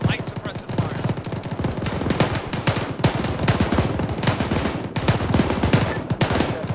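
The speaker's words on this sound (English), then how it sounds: "Keep the suppressive fire light, but push it out. Start now. Start shooting. Light suppressive fire." Light suppressive gunfire in the ArmA 3 video game, a continuous dense rattle of automatic bursts, loud and sustained throughout with many overlapping shots.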